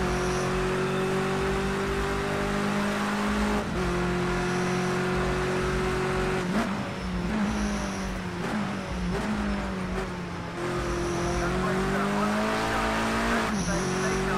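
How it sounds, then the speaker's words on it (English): Touring cars race on a wet track in Project Cars 2, with a loud, close engine drone whose pitch rises and falls through gear changes and wheel spin, alongside short squeals of tires and a voice talking over it. "That was a lot of wheel spin."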